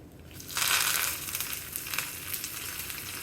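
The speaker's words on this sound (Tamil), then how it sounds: "ஒரு 1/4 ஸ்பூன் பெருங்காயம் எல்லாம் தாளித்து" Mustard seeds, chana dal, dried red chillies and curry leaves crackle and sizzle loudly in hot oil, a steady bright frying hiss that swells early and continues close and alone.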